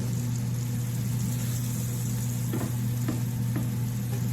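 Blackened salmon fries in a pan with a loud, steady sizzle throughout, broken by a few brief scraping taps near the end as a spatula slides under the fillet to flip it.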